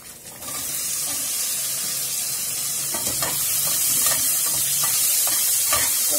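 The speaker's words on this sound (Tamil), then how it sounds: "கொஞ்சம் வெங்காயம் தக்காளி நல்லா வதங்கட்டும்" Onion, tomato and garlic sauté in a pan for pirandai thuvaiyal, giving a steady rushing sizzle that grows slightly louder, with scattered scraping and stirring taps close by and no speech.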